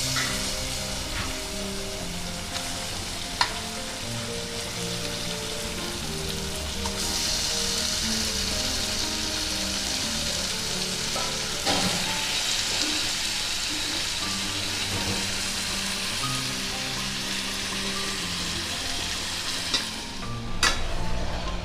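Chicken pieces frying in a wok (kadai) with onion and tomato, a dense continuous sizzle close by with occasional spatula scrapes and stirs, one sharp clank near the start.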